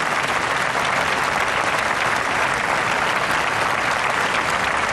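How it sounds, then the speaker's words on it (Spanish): Concert audience at a Christmas show giving sustained applause dedicated to the island of La Palma, a thick, even roar of many hands clapping, loud and unbroken for several seconds with no talk. "ese aplauso que vaya para la Isla de La Palma."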